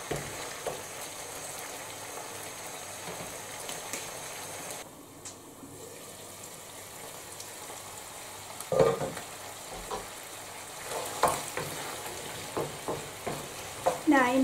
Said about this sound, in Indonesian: sekarang ini jamurnya kita masak kurang lebih 15 menitan